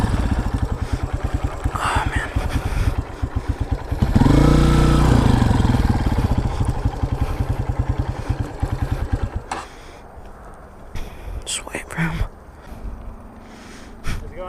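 Dirt bike engine on a dirt track, a loud rough idling putter that swells as the bike passes close by and then fades, with brief breathing and movement noises near the end.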